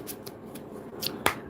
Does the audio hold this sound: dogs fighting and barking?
no